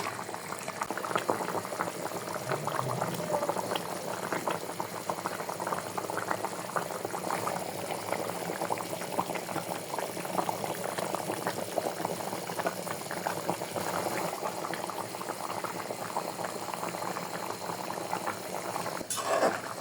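A pot of beef curry with new potatoes simmers steadily, a continuous bubbling and crackling boil heard up close with no talking throughout.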